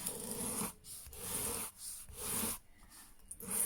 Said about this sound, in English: a few gentle strokes either side into the knife